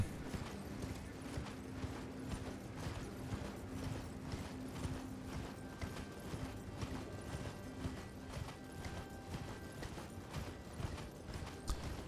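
Horse hooves clip-clop steadily in Elden Ring as the mount travels, a continuous rhythmic gallop under an ambient game soundscape, with no talk.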